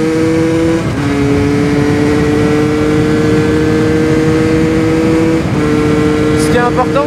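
A motorcycle engine drones steadily at close range, its pitch dropping in distinct steps as gears shift without the clutch, with a person talking over the engine.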